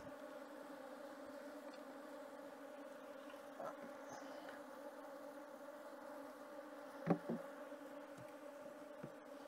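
Honey bees droning around an opened hive during a colony inspection, a steady low buzz throughout with a few brief closer passes and a small knock near the end.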